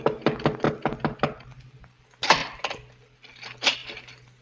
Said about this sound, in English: A few minutes before midnight, the knock came.